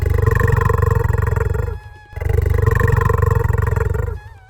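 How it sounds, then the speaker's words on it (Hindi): A cartoon lion lets out two long, loud roars, close and dominant, with a short gap between them and no talk. "जोरदार दहाड़ मारी"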